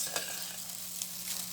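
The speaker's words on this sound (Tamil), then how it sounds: "இந்த மாதிரி கலக்கி விடுங்க." Mango rice is stirred in a pan with a continuous sizzling, scraping rustle at close range, steady and fairly loud throughout with a couple of sharper scrapes.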